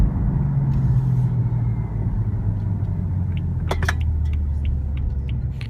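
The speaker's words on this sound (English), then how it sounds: "The BMW M3 exhaust sounds really good" A 2016 BMW M3 sedan with the M double-clutch transmission cruises along, its exhaust a steady low rumble heard from inside the cabin, with a few faint clicks and rattles near the middle.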